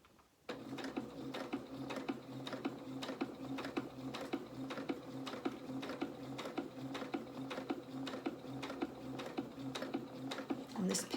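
Close, quiet rhythmic ticking of a sewing machine stitching a fabric head wrap, a steady run of regular stitch clicks with no talking.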